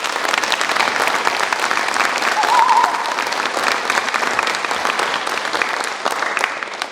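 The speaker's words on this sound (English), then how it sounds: "please, a round of applause for the gentleman wearing a uniform you see him in the back there." A crowd at the Lao-Hmong National Memorial event in South Saint Paul gives steady, sustained applause for a uniformed serviceman, loud and continuous for about seven seconds.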